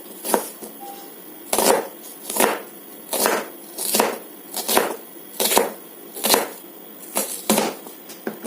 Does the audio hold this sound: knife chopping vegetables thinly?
yes